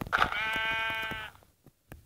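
A sheep in the Minecraft video game gives a single clear, wavering bleat lasting about a second, close and fairly loud, followed by faint quiet clicks.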